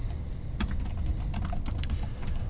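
Keys clatter on a computer keyboard in a quiet room, a quick run of close, crisp taps with brief pauses, entering a shortcut in RStudio.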